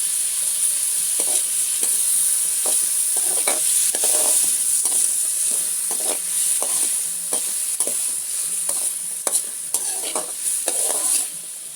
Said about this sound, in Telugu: బాగా వేగుతున్నాయండి, దగ్గర పడ్డాయి.